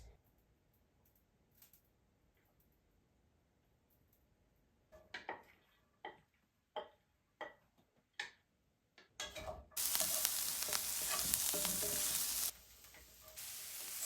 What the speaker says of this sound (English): I'm going to put some olive oil into my skillet, and then I'll sauté the onions until they're soft and transparent.